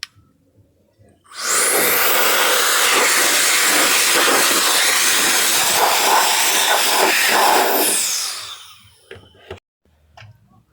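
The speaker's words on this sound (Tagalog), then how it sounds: "pinahangin na natin mga bro ng blower natin para tumalsik yung mga ano dito, yung mga dumi na nalaglag dyan" An air blower blasting debris out of an opened amplifier during a Bluetooth module swap, a loud steady rushing hiss lasting about seven seconds, close up, followed by a few small clicks.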